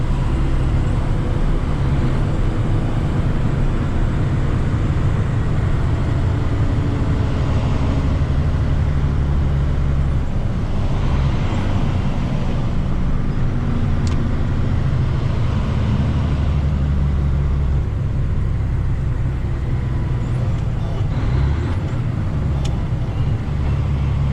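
A tractor or heavy vehicle hauling brush cruises steadily in 8th gear, a constant low engine drone with road rumble running unbroken and fairly loud throughout, with no talk.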